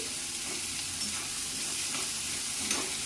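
A spice paste sautéing in a pan for a Bengali-style plantain flower dish, giving a steady, close sizzle with soft stirring scrapes throughout and no talking.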